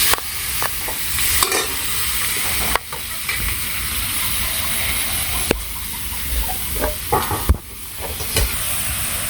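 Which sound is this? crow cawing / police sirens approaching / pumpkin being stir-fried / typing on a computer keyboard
pumpkin being stir-fried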